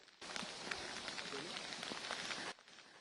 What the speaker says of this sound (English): amid this torrential rain, we're going to come here, do everything we can to help